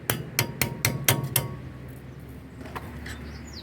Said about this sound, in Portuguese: com a talhadeira e um martelo